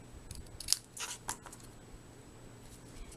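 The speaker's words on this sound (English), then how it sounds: "I'm going to snip off just about that much" Scissors make a few quick, close snips while trimming cardstock paper for a handmade card, with a soft crisp cut and a couple of lighter clips afterward before it settles into quiet.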